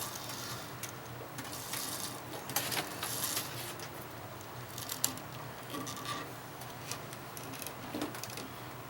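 Tennis racket string on a Tecnifibre T-Flash 300 drawn through a small loop and a large loop while tying off a knot: a close, continuous scratchy rustle with a few sharper rasping pulls along the way.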